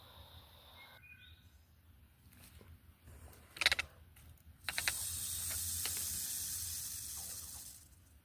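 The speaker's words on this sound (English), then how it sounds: "Look at that thing rattle." A rattlesnake on the Appalachian Trail in Pennsylvania, poised to strike, gives off a loud sustained buzzing rattle that starts about midway through. It is preceded by brief faint chirps and clicks against a quiet outdoor background.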